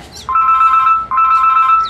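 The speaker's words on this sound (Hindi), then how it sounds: "इसके अंदर 2 रिंग टोन्स है" An X4 mobile phone plays its ringtone, a loud, close electronic melody that starts, repeats once and then carries on, with no talking over it.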